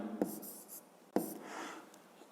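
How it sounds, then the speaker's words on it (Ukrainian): Pen or pencil writing an answer by hand on paper for a fifth-grade math exercise, two short scratchy bursts of strokes, close and quiet. "Пишемо тоді відповідь."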